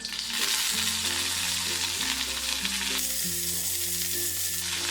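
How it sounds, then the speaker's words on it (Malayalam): Curry leaves sizzling in hot coconut oil in a pan, a steady close crackling hiss that runs unbroken under background music. "ഇതിലേക്ക് 2 തണ്ട് കറിവേപ്പില ഇട്ട് കൊടുക്കാം."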